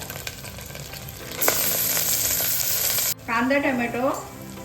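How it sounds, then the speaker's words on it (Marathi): Onion and tomato sautéing with salt in a pan for soybean pulao, a steady close sizzle with stirring scrapes that turns louder and brighter midway, then cuts out as a voice-like warble enters near the end. "कांदा टोमॅटो परतण्यासाठी आपण त्यावरती थोडंसं मीठ घालून घेऊया।"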